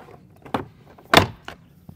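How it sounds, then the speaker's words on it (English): A plastic trim tool pries the door panel clips loose on a Ford F-Series pickup's front door, giving a couple of sharp, close pops and thunks spaced about half a second apart against near silence. "Use our trim tool to pry the plastic clips back."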